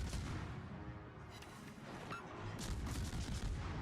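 Warship guns firing in World of Warships, with dense booming salvos rolling continuously under a loud naval battle din and no clear pauses.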